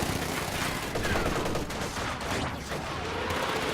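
Dense, continuous gunfire from a Company of Heroes-style WWII strategy game, with Fallschirmjäger rifles and a Maxim machine gun rattling in sustained overlapping bursts, loud and close throughout.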